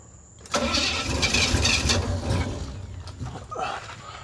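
A 1977 Pontiac LeMans engine cranks and catches, then rumbles loudly at close range with uneven idle swells before settling lower.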